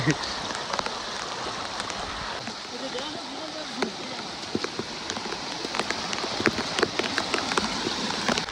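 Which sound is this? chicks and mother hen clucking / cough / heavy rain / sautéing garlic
heavy rain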